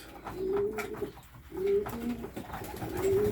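Polish racing pigeons coo in repeated low, throaty phrases, several calls rising and falling close by with short pauses between them over a faint background.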